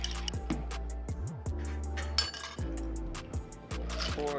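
A stirred whiskey cocktail is poured out into a glass, with a trickle of liquid and scattered clinks of glass and ice repeating over several seconds, close and fairly quiet, with no voices.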